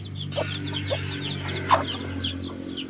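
A pure Huluano hen clucks in short, separate calls over a steady low hum, with faint bird chirps in the background.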